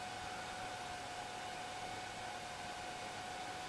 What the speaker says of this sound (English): the noise you hear is actually the fan in my head unit